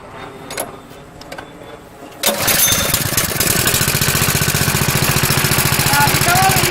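John Deere Gator 625i with a wildland fire setup, choked: a few handling clicks, then the engine cranks and catches into a loud, steady, rapidly pulsing idle close by.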